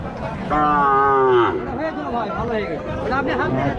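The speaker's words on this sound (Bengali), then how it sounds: "গরু" Cattle at a busy livestock market in Rajshahi let out a loud, drawn-out moo lasting about a second, followed by the steady murmur of a crowd chattering nearby.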